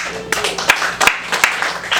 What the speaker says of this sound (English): Clap if you like this fact.